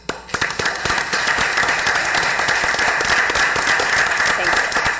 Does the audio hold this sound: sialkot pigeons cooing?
no